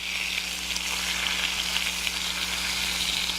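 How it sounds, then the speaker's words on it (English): Steaks sear in a hot pan with a steady, close, even sizzle and hiss throughout, no voices over it. "After they seared for 2 minutes on one side, you're going to flip them over"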